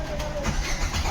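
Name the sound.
Maruti Suzuki Swift engine cranking and starting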